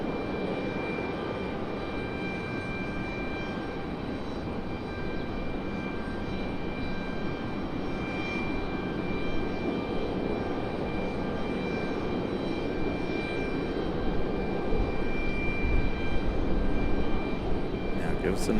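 ATR turboprop airliner landing at Raleigh-Durham airport, a steady low engine drone with faint propeller hum tones, moderately distant and building slightly toward the end, while a person talks over it.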